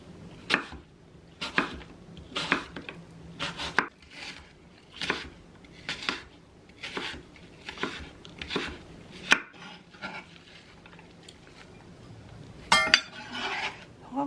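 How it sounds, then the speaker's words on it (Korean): An apple is julienned with a knife on a cutting board, giving a steady run of crisp, close chops in a regular rhythm with short pauses, then a quicker cluster of cuts near the end. "사과는 가늘게 채썰 거예요."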